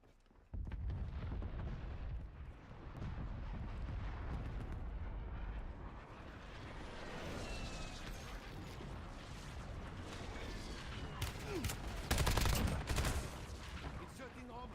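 Dense video game combat with sustained rapid gunfire and explosions, loud and continuous, intensifying toward a heavy blast near the end.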